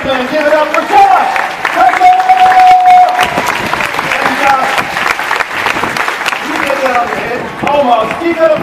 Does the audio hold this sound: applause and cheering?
yes